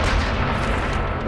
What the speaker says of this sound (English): Let's throw a grenade at them.